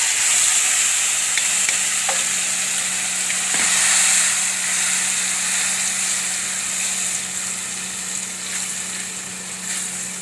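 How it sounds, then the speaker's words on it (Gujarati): Spice masala hitting hot oil in a pan with asafoetida already in it, a loud steady sizzle and fry hiss that holds throughout with faint stirring scrapes and a low hum beneath. "તેલ ગરમ થઈ ગયું છે. પછી આપણે આ મસાલો નાખી દેવું."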